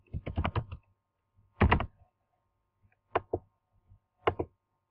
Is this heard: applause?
no